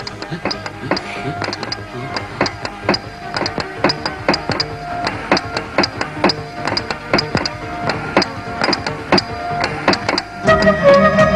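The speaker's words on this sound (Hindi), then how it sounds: "जैसे बिल्कुल तार घर की आवाज है" Rapid, irregular mechanical clicks and taps from a telegraph machine sound nearby in bursts with brief pauses, plus a short hum near the end.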